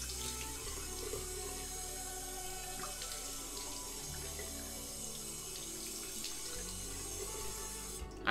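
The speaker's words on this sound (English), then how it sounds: "I'm gonna rinse my face" Tap water runs steadily into a bathroom sink while a face is rinsed, a continuous close splashing hiss with small shifts as hands move through the stream, no talking.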